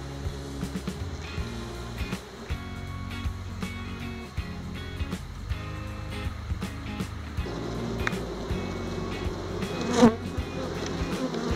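Honey bees at an open hive during a queen-cell inspection, a steady insect buzz and drone running throughout with scattered handling clicks and knocks close by, no talking.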